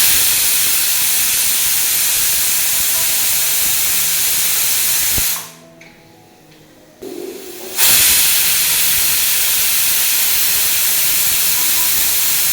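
A pressure cooker with moong dal inside vents steam in a loud, continuous hiss that cuts out abruptly for about two seconds and then bursts back at full force.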